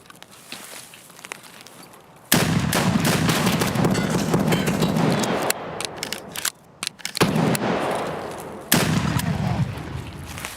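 Gunfire in the video game Escape from Tarkov: loud sustained bursts of rapid shots with sharp onsets and abrupt stops, separated by quieter stretches with footsteps and small clicks.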